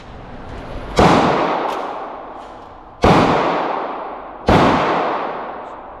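Three loud gunshots at an outdoor shooting range, each a sharp crack about two seconds apart followed by a long rolling echo that fades before the next.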